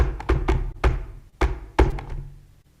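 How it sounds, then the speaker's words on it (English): Several firm knocks on a wooden palace door in irregular clusters, loud and close, with no one talking over them. "a week later, there was a knock on the palace door."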